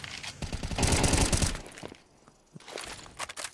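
Gunfire crackles in an esports video game match, a rapid burst of overlapping shots, loud and dense, followed by quieter scattered impacts and footsteps.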